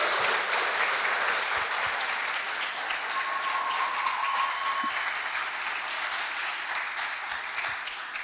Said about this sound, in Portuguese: E solicito que a gente faça uma salva de palmas aqui para a organização